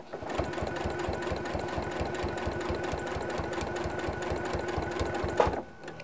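A sewing machine runs steadily with a fast, even rhythmic chatter of stitches while binding a quilt, then a sharp clunk near the end as it stitches over a seam before it stops.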